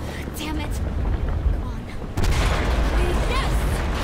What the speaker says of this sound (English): That's one hell of an explosion!